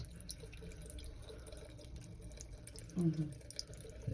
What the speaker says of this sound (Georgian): 100 ლიტრა წყალი მიდის.